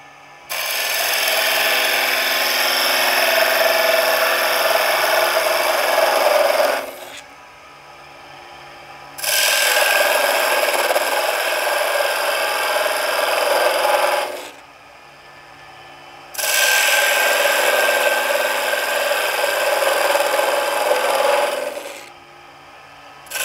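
A woodturning lathe cuts five grooves into a spinning wooden honey dipper, making three long, steady bursts of loud scraping and rasping, each separated by a short quiet pause.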